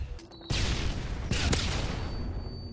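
Grenade launcher blasts in Call of Duty Modern Warfare 2 multiplayer: a loud burst erupts half a second in, followed by sustained rumbling explosions and a second sharp blast near the middle, with no talk.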